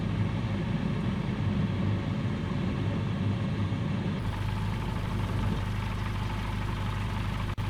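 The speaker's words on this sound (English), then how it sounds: "an Ultra Cub fitted with a STOL kit on it" An Ultra Cub light aircraft fitted with a STOL kit idles with a steady, loud low engine rumble and drone, shifting slightly in tone partway through, with no one talking.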